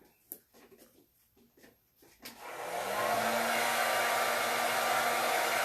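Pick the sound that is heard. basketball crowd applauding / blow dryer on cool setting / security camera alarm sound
blow dryer on cool setting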